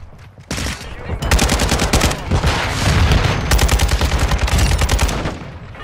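Rapid automatic gunfire in Call of Duty: Modern Warfare II, a loud, dense stream of shots that runs steadily for several seconds with only brief pauses, close and dominant.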